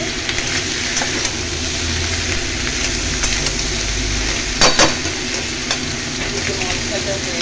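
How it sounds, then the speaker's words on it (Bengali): Fish sizzles steadily in hot oil in a pan while being stirred, with a few sharper scraping clicks of the utensil near the middle over a continuous frying hiss. "মাছ ভাজা হয়ে গেছে।"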